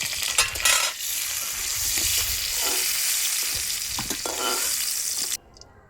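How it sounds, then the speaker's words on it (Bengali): Food frying in hot mustard oil over a home cooking fire, a steady loud sizzle with a few stirring clatters, then cutting off abruptly near the end. "ভাজা হয়ে গেছে এবার তুলে নেব"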